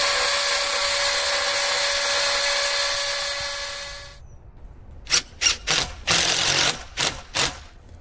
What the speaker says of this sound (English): figure out where I want to drill a hole in this concrete block stucco wall